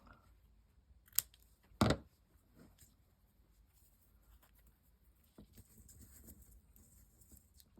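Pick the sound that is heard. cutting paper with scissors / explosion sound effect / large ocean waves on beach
cutting paper with scissors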